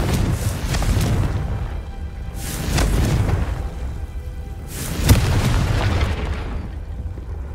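Confringo blasting spell in the video game Hogwarts Legacy, three booming explosions spaced a couple of seconds apart, each with a sharp burst and a rumbling tail, no talk over them.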